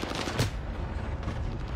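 Rapid bursts of gunfire from a shooter video game, a dense sustained fusillade with one louder shot standing out early, continuous and fairly close, with no talking over it.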